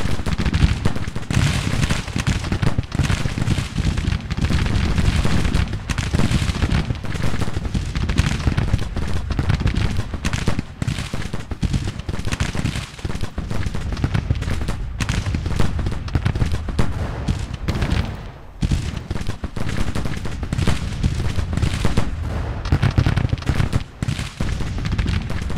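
Dense, sustained volleys of cannon fire and massed musketry from a Civil War battle in Grand Tactician: The Civil War, defending West Virginia at Grafton; continuous loud rumbling booms and crackling shots with no talking.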